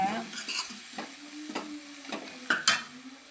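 Food is sautéed with homemade garam masala in a pan, with a steady close sizzle broken by repeated scraping stirs of a spatula against the metal.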